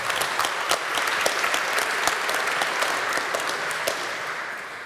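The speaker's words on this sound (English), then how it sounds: "if you could give the panel a quick rousing cheer" Audience applause for a fintech panel at a SWIFT-hosted conference session, dense steady clapping from a large crowd lasting several seconds and slowly tapering, with no speech over it.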